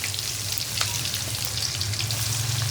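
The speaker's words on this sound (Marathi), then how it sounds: "एक चमचा जिरे टाकते आणि हा ठेचलेला मी लसूण ह्याच्यामध्ये टाकते" Cumin seeds and crushed garlic frying in hot oil in a pan for poha chivda, a loud, steady crackling sizzle with a low hum underneath and no voices.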